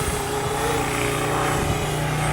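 An Eachine Falcon 250 quadcopter racing drone flies outdoors, giving off a continuous buzzing whir of propellers at moderate distance with slight shifts in pitch.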